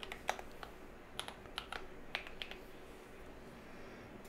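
Quiet keystrokes tap on a computer keyboard in short irregular bursts, close and clicky, with no voices.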